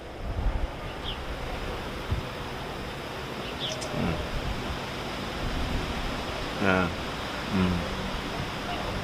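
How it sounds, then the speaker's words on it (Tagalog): Strong wind buffets the microphone in a continuous rushing roar, with a few faint voices and brief knocks underneath. "Malakas yung hangin ngayon, sobrang lakas."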